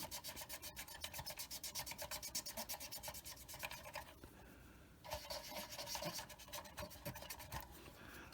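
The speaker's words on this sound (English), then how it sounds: "if you use the Q-tip, it'll rub it off even more." A Q-tip scrubs paint off a Monogram M3 Lee plastic model tank in quick, even rubbing strokes. The strokes are close and soft, pause briefly partway through, then resume.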